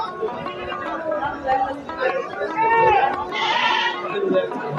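Goats bleat repeatedly at a crowded Eid sacrifice livestock market, their wavering cries rising over a steady background of people chatting nearby.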